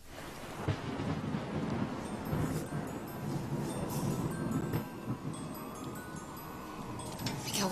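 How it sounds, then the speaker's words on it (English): Rolling thunder from a TV soap opera scene, a steady deep rumble filling the whole stretch with a hiss like rain over it, with no voices heard. "why is it thundering this time of year?"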